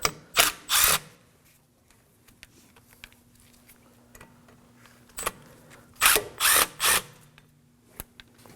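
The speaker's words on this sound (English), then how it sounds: "Next, we're going to remove the rotor screws. In this case, we have two of them. Using a Phillips head screwdriver," A powered Phillips-head driver removes the front brake rotor screws on a 2016-2020 Kia Sorento. Sharp, loud whirring bursts come in two clusters of three, separated by quiet stretches with faint clicks.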